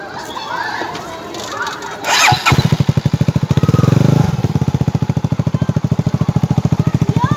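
A motorcycle engine revs hard and then settles into a steady, loud, rhythmic throbbing close by, after a few seconds of brief voices and knocks.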